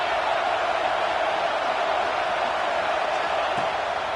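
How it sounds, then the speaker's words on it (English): Steady roar of a large college football stadium crowd in a video game, Clemson vs Florida, a dense continuous wash of cheering noise at constant loudness throughout. "This crowd bringing the energy and noise early."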